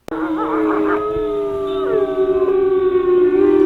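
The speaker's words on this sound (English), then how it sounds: "And we hear the wolves howl" Several long, wavering howls rise and overlap, sustained and fairly loud, like a pack of wolves calling together without pause.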